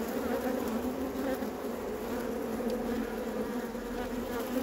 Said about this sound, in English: This late swarm of bees was introduced to the Two Hive setup a couple of days ago.